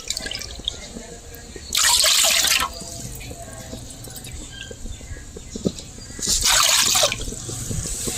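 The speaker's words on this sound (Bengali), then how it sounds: "এই বাটির মাপ করে আমি 3 বাটি পানি দিয়ে দেবো।" Water poured from a bowl into a kadai set on a gas flame to make sugar syrup, arriving in two short splashing bursts a few seconds apart over a steady low background.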